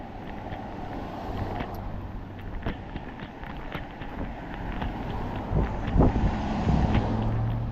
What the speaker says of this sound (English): Windy, my friends, it's windy.